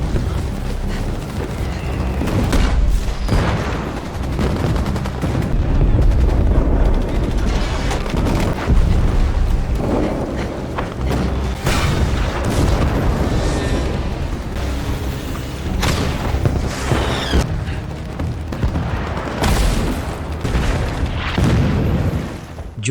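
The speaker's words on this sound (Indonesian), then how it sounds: "dentuman artileri yang tiada henti, suara bising drone di udara, serta baku tembak sengit di area garis depan." War scene from a Russian front line with repeated heavy booms of artillery and bursts of gunfire, dense, loud and continuous, with explosions piling up irregularly throughout.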